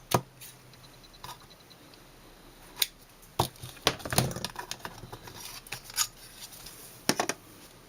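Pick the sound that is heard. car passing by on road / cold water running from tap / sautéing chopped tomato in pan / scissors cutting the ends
scissors cutting the ends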